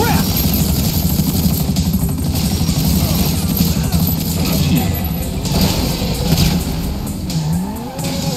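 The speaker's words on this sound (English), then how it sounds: "Another chopper!" A helicopter in GTA V during a shootout, its rotor drone running continuously under loud car engine revving and driving noise.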